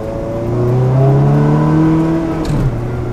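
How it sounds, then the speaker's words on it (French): Ferrari 360 Modena V8 with a reprogrammed F1 gearbox, revving loudly and close by in one sustained rising and falling blip, with no talk. "Oh, les coups de gaz."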